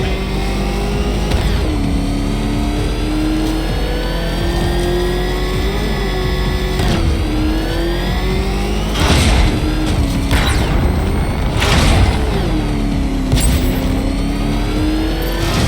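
The Batmobile's engine revs and roars in Batman Arkham Knight, a steady mid-pitched drone with several sharp, louder surges and booms in the second half. No one speaks over it.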